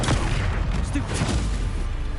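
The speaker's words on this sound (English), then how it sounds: "Stupefy!" A Stupefy stunning spell cast in the video game Hogwarts Legacy, heard as dense, loud booming blasts and crackling impacts that fill the whole moment with battle noise.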